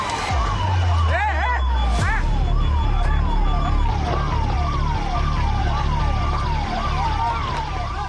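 Fire brigade vehicle sirens at a fire at the Mahakumbh Mela in Prayagraj, several wailing tones sweeping up and down in a steady repeating cycle over a low rumble of engines and crowd noise.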